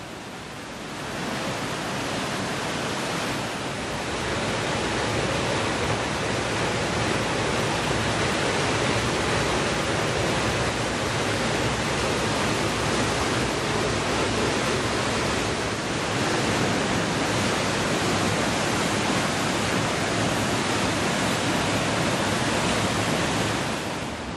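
A mountain stream near Gaurikund rushing steadily downhill: a dense, unbroken roar of flowing water, loud and close, unchanging for the whole stretch with no voices.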